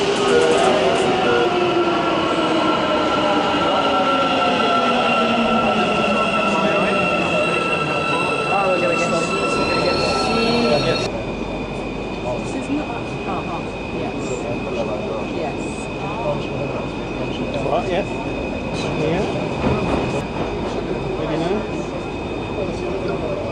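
An Istanbul metro train rolls along with a steady rumble, its wheels and motor whining in rising and falling tones, heard from inside the moving carriage.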